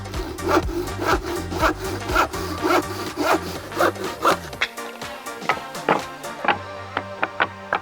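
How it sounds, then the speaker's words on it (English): Handsaw cutting through wood in quick repeated rasping push-pull strokes, close and fairly loud, slowing into a few separate strokes near the end as the cut finishes. "if you account for cutting the other end, it could be as high as 160 cuts with a handsaw"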